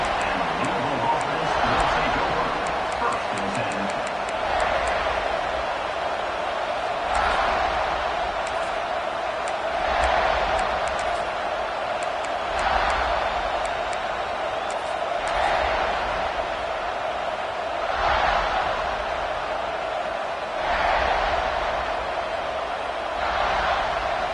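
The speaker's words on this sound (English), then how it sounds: "this crowd is fired up. Listen to this noise here." A large college football stadium crowd roars steadily in a big open space at South Carolina, swelling in waves, with a commentator talking over the noise.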